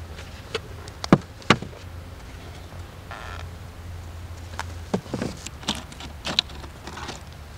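Soft, steady buzzing from honeybees around an opened hive during an inspection, with occasional sharp clicks and knocks close by.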